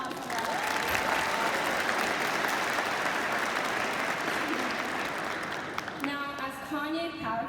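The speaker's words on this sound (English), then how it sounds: "So let's give ourselves a round of applause for that." Graduating high school seniors at their commencement ceremony applaud themselves in a loud, dense burst of clapping that holds steady, then thins near the end as a voice and a few cheers emerge.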